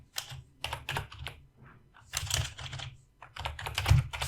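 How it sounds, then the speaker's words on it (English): Typing on a computer keyboard, with quick clustered key clicks in bursts and a short pause mid-way, close and fairly quiet. "Let's just type how"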